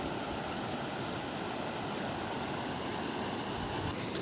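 A swollen river in Ubito runs high and deep after heavy rain, giving a steady, loud broadband rush of flowing water that holds constant throughout with no voices.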